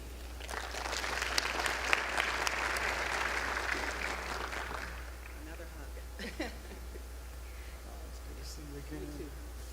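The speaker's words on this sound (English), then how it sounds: "Please give them a hand." Audience applause at a county executive's swearing-in ceremony, a broad wash of clapping for about five seconds that fades out, followed by quieter room noise and scattered sounds.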